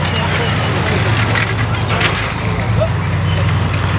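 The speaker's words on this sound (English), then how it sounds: "Yes, folks, that is a diesel engine" The diesel engine of a Soviet T-34-85 tank idles in a steady low throb at an outdoor display, with irregular crackling on top and people talking nearby.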